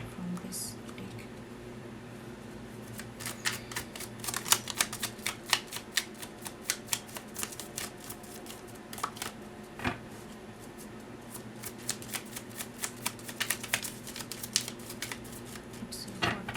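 Tarot cards being shuffled and drawn from a deck, heard as a quiet run of crisp, rapid clicks and flutters in loose bursts over a soft background hum.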